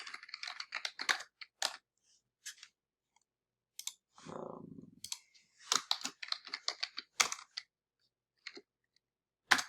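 Keys tapped on a soft, light-action computer keyboard, producing scattered clusters of quiet clicks with pauses between bursts, fairly close and with no talking.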